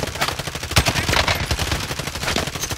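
Rapid gunfire in a battle royale shooter game, continuous bursts of close, loud shots rattling throughout with no talking.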